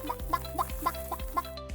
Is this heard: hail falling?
no